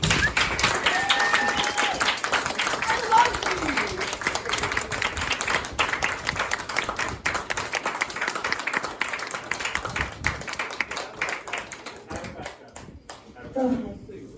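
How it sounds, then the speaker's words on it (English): A theater camp audience claps and applauds steadily in a room, a dense sustained wash of hand claps that fades toward the end. "Give yourselves a round of applause."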